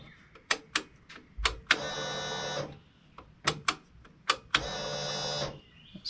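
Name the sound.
Honda Goldwing GL1500 fuel pump pumping fuel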